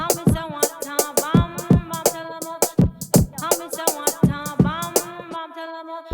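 An electronic vocal remix drop with chopped vocal snippets riding over punchy MIDI kick and snare and crisp hi-hats, a steady loud groove that cuts out briefly near the end.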